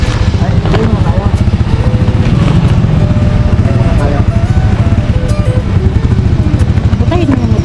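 Motorcycle engine running steadily close by, a loud continuous rumbling drone with a rapid regular pulse and no pauses, outdoors on a road journey.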